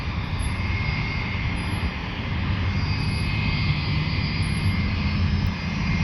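A continuous broadband jet engine roar from a military airplane at Fort Bragg, steady and fairly loud with a faint whine on top, heard alone without talk.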